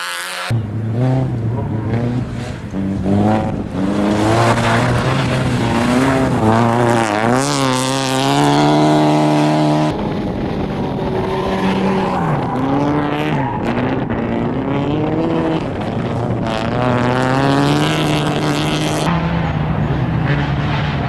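Former official Fiat team rally car racing at the Jesus Maria rally, its engine loud and close with rising and falling revs as it shifts through the gears, running steadily for about twenty seconds with no talk over it.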